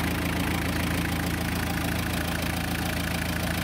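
An engine runs at a steady idle, loud and close, with an even low rumble and a faint knocking texture throughout, and no voices over it.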